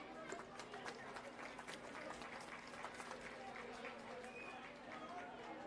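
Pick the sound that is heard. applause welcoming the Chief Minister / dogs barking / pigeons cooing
applause welcoming the Chief Minister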